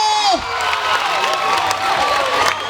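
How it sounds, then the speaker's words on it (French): An audience at a stage show by a youth association cheers and applauds loudly, with children shouting and whooping over dense clapping, a high cry sliding down at the start, and crowd voices throughout. "Applaudissons très fort."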